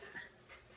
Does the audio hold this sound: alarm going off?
no